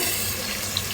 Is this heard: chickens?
no